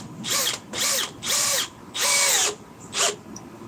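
A cordless power drill on speed 2 drives 4-inch timber lock screws in five whirring bursts of rising and falling pitch, each about half a second, with short pauses between, close and alone.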